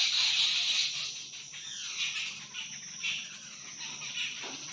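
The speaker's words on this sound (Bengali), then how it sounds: "প্রচুর পাখির আওয়াজ এই সময়" Many birds call together around a house, a dense, shrill chorus of overlapping chirps and squeals with insect-like trilling beneath, steady and fairly near.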